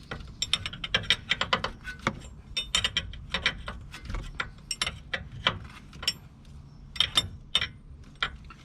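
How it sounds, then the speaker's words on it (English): A 24mm spanner working loose the front strut top nut on a Peugeot 407 SW, giving rapid ratcheting clicks in irregular bursts, close and crisp with no talking. "use a 24mm spanner to actually undo it like this"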